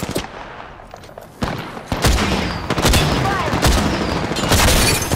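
Gunfire in the Apex Legends video game: dense bursts of rapid shots and booming impacts pile into a loud, continuous fusillade that grows heavier after the opening seconds.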